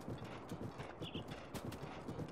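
Horse hooves clip-clopping in The Legend of Zelda: Breath of the Wild as a horse moves along a narrow, hilly mountain path, a steady rhythmic plodding under game music and ambience, with no talk.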